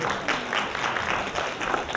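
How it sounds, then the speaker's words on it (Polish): Warm applause from an audience at a charity fundraising finale event in Starachowice, steady dense clapping for two seconds with no voices over it. "Gorące brawa, drodzy Państwo."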